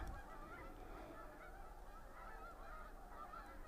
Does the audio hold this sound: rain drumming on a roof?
no